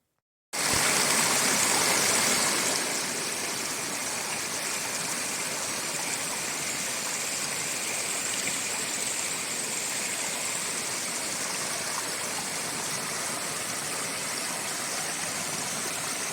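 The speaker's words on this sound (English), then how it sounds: "This is the creek that I had to cross over to get to the shelter" A creek near an Appalachian Trail shelter in Virginia rushes steadily and close, a dense, even wash of flowing water with no voices.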